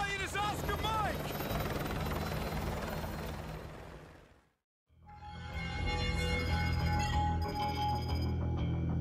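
Military helicopter in Call of Duty Modern Warfare 2 Remastered, a loud continuous rotor roar that drops out briefly before resuming with rhythmic thudding blades and mechanical clatter.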